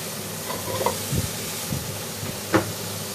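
Pork stir-frying in a hot pan while making fried rice, with a low sizzle under a few sharp scrapes and stirs of the spatula, close up and with no talking.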